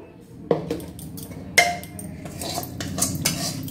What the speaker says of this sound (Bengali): মশলাটা পুরো আমি কাচিয়ে দিয়ে দিচ্ছি এর মধ্যে